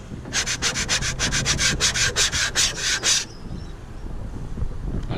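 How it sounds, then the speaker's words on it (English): Rapid back-and-forth hand scraping during work on a Nissan R33 drift car: about a dozen close, loud rasping strokes in quick rhythm for three seconds, then quiet. "It scrapes."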